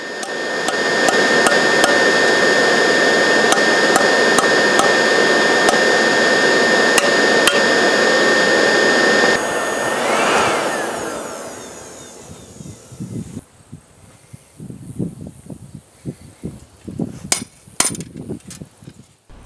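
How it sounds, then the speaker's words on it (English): Loud, continuous metallic clanging and grinding of hammering hardware store steel flat bar fills the first half, then fades to scattered sharp hammer strikes on metal with quieter gaps between them. "I had to hammer the shit out of some hardware store flat bar."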